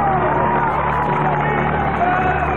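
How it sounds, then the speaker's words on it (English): A rodeo arena crowd cheers and roars steadily and loudly after a bucking bronco ride, a dense wash of voices filling the whole stretch without pause. "And with some encouragement from the crowd"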